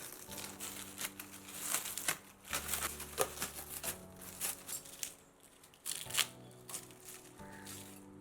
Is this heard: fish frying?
no